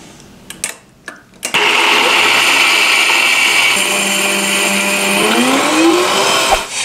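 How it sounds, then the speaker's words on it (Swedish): A blender churns cashew nuts into cashew butter. A few short knocks and clicks come first, then a loud, steady whirring whine that shifts pitch partway through as the mixture thickens, then cuts off near the end. "jag ska bara börja med att mixa det här för att se, för att det ska liksom mjuknas upp"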